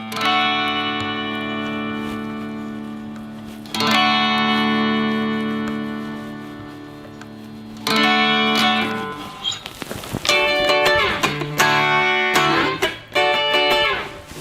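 A Fender Stratocaster electric guitar on the first pickup position, volume and tones all the way up, rings out long sustained chords, then strums a quicker series of bright, ringing chords, heard alone without talk.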